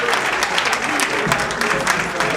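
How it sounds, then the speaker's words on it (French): An audience at a cultural programme launch gives the instrumentalists, bassists among them, a loud, dense round of applause that stays steady throughout with a faint crowd murmur. "il faut applaudir également les instrumentistes,"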